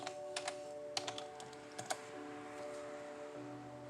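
Someone types on a computer keyboard in quick, irregular clusters of sharp key clicks, close and faint against a quiet background hum, with no talking.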